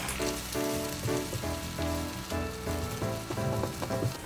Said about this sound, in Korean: 계란 하나를 톡 터뜨려 휘리리 볶아주세요